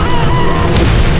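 A loud, dense boom from a weapon shot in Crash Tag Team Racing, a sustained rumbling blast filling the whole moment, close and heavy with no talk over it.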